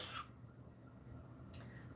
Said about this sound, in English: Sorry, hot peppers make me cough.